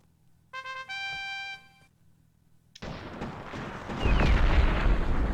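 Artillery cannon fire in the PC strategy game Cossacks: Back To War: a sudden loud boom crashes in after a short musical chime, followed by a sustained rumbling barrage that swells louder near the end.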